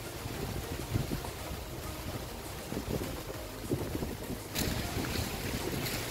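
Strong typhoon wind sweeps through swaying bamboo, a continuous broad rushing roar with gusty surges and buffeting on the microphone, quiet and without speech.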